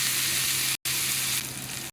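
Beef stir-frying with oyster sauce in a pan, a loud continuous sizzle close up, cut by a brief moment of silence, then the hiss carries on slightly softer.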